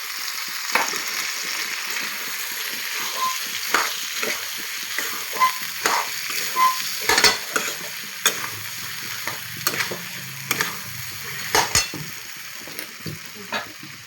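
Tomato gravy for a potato and green pea curry sizzles and fries in a pan, stirred steadily with repeated sharp scraping strokes over a constant hiss, close and fairly loud.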